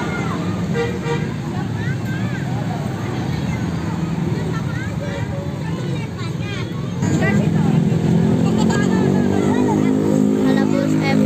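An Agramas intercity bus passes a roadside bus-spotting spot in Indonesia, its engine rumbling steadily and growing louder and fuller toward the end amid continuous street traffic and crowd babble.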